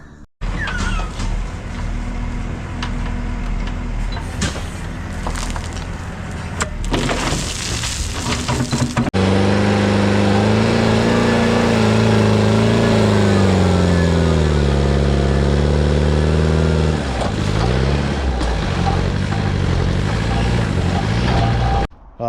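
JCB 3CX backhoe loader digging out an underground bunker floor, its diesel engine loud and close, labouring and revving steadily, with clanking in the first few seconds before a long sustained working drone.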